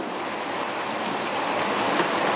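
Water from the Kunar River in Afghanistan rushes through a sluice gate into a newly dug irrigation canal, making a steady, full hiss of flowing water that continues without a break.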